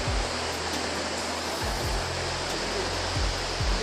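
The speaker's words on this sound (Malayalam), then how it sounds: "ഇതാണ് വാലഞ്ചാനം വെള്ളച്ചാട്ടം എന്ന് പറയുന്ന സ്ഥലം." Valanjanganam waterfall in Kerala, a steady broadband roar of rushing water filling the whole stretch, close and constant, with occasional low thumps beneath.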